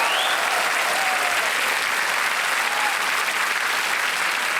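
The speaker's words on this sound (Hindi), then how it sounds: "एक बार इनके लिए जोश के लिए ताली बजाएं।" A studio audience at the Kaun Banega Crorepati quiz show bursts into loud, steady applause that holds at full strength for several seconds without pause.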